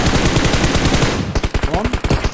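Rapid automatic gunfire from the mobile game PUBG Mobile, loud and close, a dense burst of rattling shots followed by distinct, evenly spaced reports.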